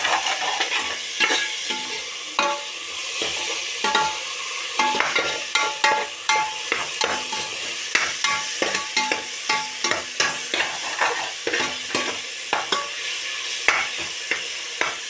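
Chopped coriander and curry leaves frying in a pot of chicken biryani, a constant sizzle punctuated by many quick, rhythmic scrapes and clacks of a stirring spoon, close and steady with no talk.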